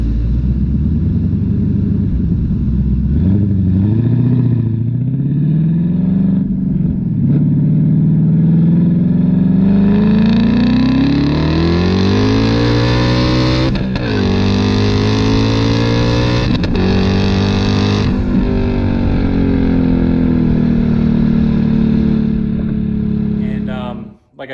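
A twin-turbo 2021 Mustang accelerates hard on a street, engine note rising through the gears with a loud, sustained roar that climbs, drops at shifts and builds again, close and dominant throughout.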